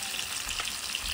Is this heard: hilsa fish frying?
yes